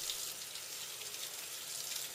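Tap water runs steadily while hands are rinsed from fingers to elbows during scrubbing for dental surgery, a constant close hiss and splash with no voices.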